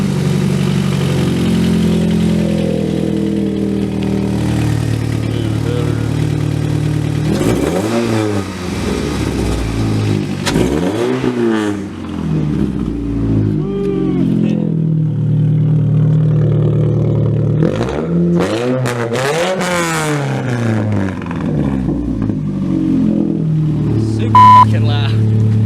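A car engine fitted with a new DDM Works performance header idles with a steady low rumble, then revs up and falls back several times. People talk over it between the revs.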